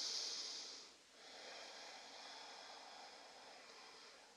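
Steady airy breathing during a yoga session for stiff beginners, a sharp forceful exhale at the start, then a long continuous soft rush of breath with no talking, fairly faint and close.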